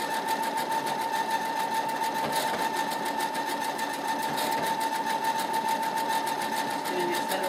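A home sewing machine runs a programmed stitch pattern, giving a steady, fast mechanical whir with rhythmic needle ticking, close and continuous without pause.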